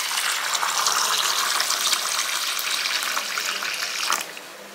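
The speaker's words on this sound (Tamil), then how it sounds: "இதை நம்ம தண்ணி ஊற்றி நல்லா ஊற வச்சு ஒரு 3 மணி நேரம் நல்லா ஊறணும்." Running water poured over raw rice in a kitchen to soak it, a steady broadband gush that holds for about four seconds before easing off at the end.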